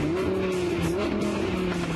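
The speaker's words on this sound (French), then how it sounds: "vous entendez ce petit coup de gaz sur les changements de rapport lorsqu'on rétrograde." An Audi R8 on the road blips its throttle automatically on each downshift, the engine note rising and falling steadily and loud and close, with tyre and road noise beneath.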